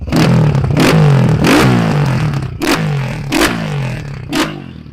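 A small pit bike engine revs loudly and repeatedly up close, with sharp throttle blips rising and falling in pitch over a steady idle.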